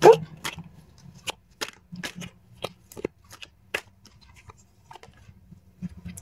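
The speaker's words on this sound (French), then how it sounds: "je vais tirer le troisième carte" Tarot cards handled and drawn from the deck: a series of short, sharp card snaps and flicks at irregular intervals, close and clear.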